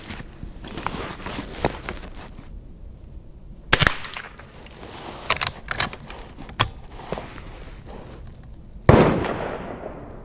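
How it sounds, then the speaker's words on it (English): A Marlin 39A rifle fired at a bullseye target, sharp cracks spaced a few seconds apart, close and loud, with the last shot ringing out strongest. "let's shoot at the center bullseye now"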